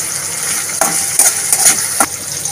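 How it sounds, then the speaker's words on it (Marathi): Garlic and chopped coriander sautéing in hot oil in a pan for a Marathi baby fenugreek dish, a steady bright sizzle with a few short stirring scrapes. "तेलामध्ये सगळं परतून घेऊयात"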